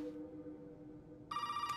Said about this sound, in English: now you answer the phone call